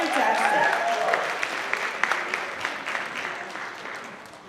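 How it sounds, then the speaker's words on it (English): An audience at a school board meeting applauds a group of second grade students, a steady wash of clapping that slowly fades, with a voice speaking at the start. "Let's give them a round of applause."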